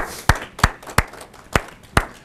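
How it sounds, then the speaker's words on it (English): Five sharp, separate handclaps ring out at an uneven, unhurried pace, close and fairly loud, as a crowd at a community speaking event begins applauding the speakers. "give these guys a big round of applause"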